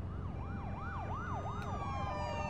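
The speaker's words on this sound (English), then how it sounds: "So what, a police car is going past?" A police car siren in The Walking Dead video game wails in a clear rising-and-falling cycle, loud and steady over a low road rumble, as the vehicle passes.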